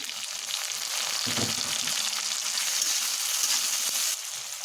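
Chopped onion, ginger, garlic and green chili fry in a pan with a continuous close hiss and crackle and a brief stirring clatter partway through, with no talk.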